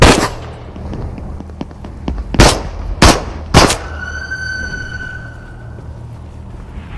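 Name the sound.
gunfire from a video game, Into the Radius on Quest 2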